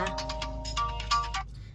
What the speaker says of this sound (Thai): เมื่อกี้โทรศัพท์มีสายเข้ามานะคะ